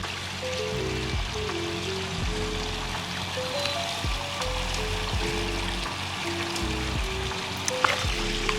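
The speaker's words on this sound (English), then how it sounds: "they have a pond in their backyard" Water trickling steadily in a backyard pond, a soft continuous babble and patter that runs throughout, with faint background tones over it.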